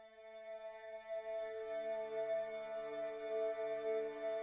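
An Omnisphere synth with the granular engine on holds a glassy, shimmering texture of steady sustained tones. It is soft and even and plays alone.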